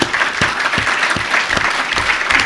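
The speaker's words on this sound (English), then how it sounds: "let's give you a round of applause." A conference audience at the 2008 AVC Conference gives military veterans a loud round of applause, thick continuous clapping filling the room from start to finish.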